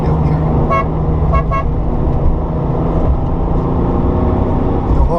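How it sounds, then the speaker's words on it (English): A Porsche 993 Turbo horn gives a few short, fairly mild toots over a steady engine and road rumble, close by, with no talk. "The horn is not very aggressive sounding"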